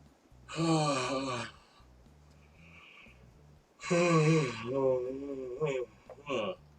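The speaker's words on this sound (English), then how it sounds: "Fake yawn turns into real yawn." A person's drawn-out vocal yawn, starting as a deliberately faked yawn that becomes a real one, heard close as a long voiced stretch, then a pause and a second, longer yawn that trails off into breathy sighs.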